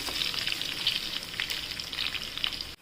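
Diced potatoes frying in a pan for sabudana khichdi with green chilies, giving a steady close sizzle with scattered crackles and pops, no talk.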